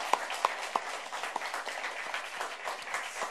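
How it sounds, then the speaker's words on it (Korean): A church congregation claps in applause, a fairly quiet spread of hand claps with a few sharper close claps standing out, steady across the moment with no talk. "목사님 빨리 나으시라고 위로의 박수 또 격려의 박수를 힘차게 우리 쳐주셨으면"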